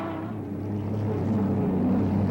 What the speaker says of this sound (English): You can hear that turbine engine howling in the background.